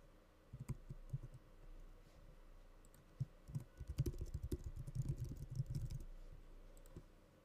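Typing on a computer keyboard while entering a test email into a MailChimp subscribe form, a steady run of soft close key clicks with bursts and short pauses and no talking.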